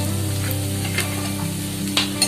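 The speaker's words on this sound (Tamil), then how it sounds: "இந்த வெங்காயம் நல்லா வதங்கணும்" Sliced onion sautés in a hot pan, a loud, steady sizzle broken by a few brief stirring scrapes.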